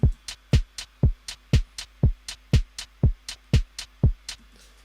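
A hip-hop drum loop plays without talk, with punchy kicks and snares locked in a steady groove and a bright percussion loop working like a hi-hat, ticking quickly between the hits, loud and close.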